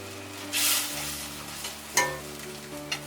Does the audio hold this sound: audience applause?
no